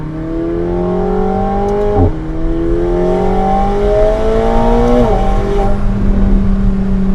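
Stock-exhaust McLaren 750S engine heard from inside with the back window lowered, a loud, steady, throaty drone that rises in pitch through the gears with brief dips at each shift.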